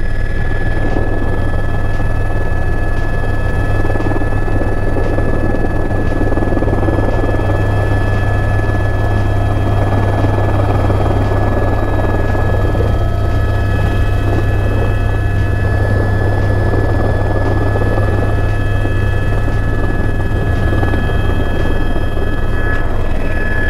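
Helicopter flying near Lukla in the Everest region of Nepal, its steady rotor thrum and turbine whine running loud and unbroken throughout with no voices.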